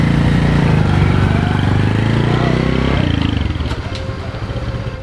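A Suzuki motorbike engine running while a first-time rider sets off on a Vietnamese street, a loud steady drone that rises in pitch as it pulls away and then fades slightly.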